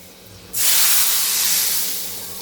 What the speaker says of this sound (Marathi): आपण जो तडका बनवला होता तो घालणार आहोत